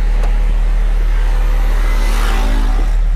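Toyota Corolla EE90 with a 3S-GTE turbo engine accelerating on a test run, heard from inside as a loud, steady engine drone with road rumble and a slight rising whir.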